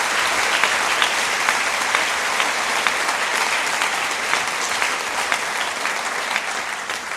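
Loud, sustained applause fills a hall at a Grade 6 and 7 primary school awards ceremony, many hands clapping in a dense, steady roar that holds at even strength throughout.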